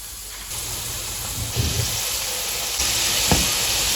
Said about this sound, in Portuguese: agora vamos para a segunda fritura da batata frita